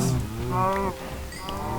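Cow mooing in the video game Minecraft: a low, drawn-out bovine moo, loud and close, followed by a second shorter moo over steady background game noise, with no talking.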